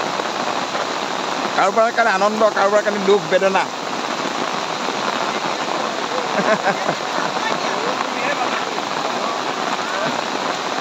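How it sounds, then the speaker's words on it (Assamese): Heavy, continuous monsoon rain pours down steadily, a dense hiss filling the whole clip, with a person speaking over it early on. "এতিয়া বৰষুণ দিয়া একেৰাহে দি বৰষুণ পৰি আছে"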